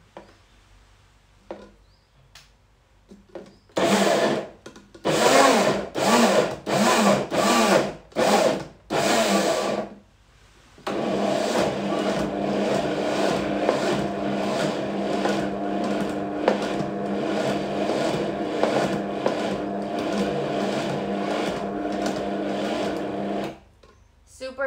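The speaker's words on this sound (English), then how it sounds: "Grabbing your blender" A blender, a little broken and not the best, pulses sun-dried tomato and herb hummus in a series of short loud bursts, then settles into one long continuous whir before stopping.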